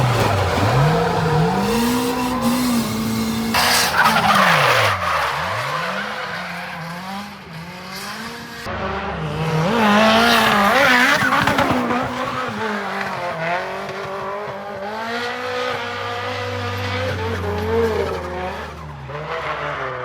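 Cars drift at a Japanese track, engines rising and falling in pitch through repeated passes, with long tire squeals and skids, loud and fairly close.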